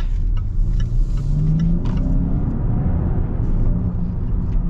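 A 2022 Range Rover Westminster in S mode pulls away, its engine note rising smoothly under a steady low road rumble, with a few faint clicks above.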